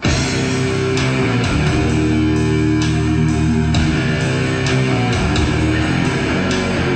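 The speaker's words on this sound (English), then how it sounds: "The song actually starts off with an ambient section" A dense, sustained ambient opening section of the Universe at War PC game soundtrack, with low droning chords and washy textures, punctuated by soft swelling accents, loud and continuous without voices.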